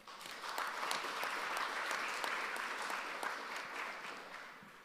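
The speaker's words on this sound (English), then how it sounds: "Please give them all a round of applause." A summit audience applauding steadily, a dense wash of many hands clapping that swells, holds for several seconds, then slowly tapers off.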